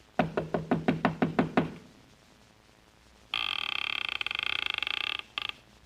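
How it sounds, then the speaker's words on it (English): Eight quick knocks rap on a door in a brisk, evenly spaced burst. After a pause, a loud electronic ringing follows, shrill and continuous. "I finally took a chance and knocked on a door"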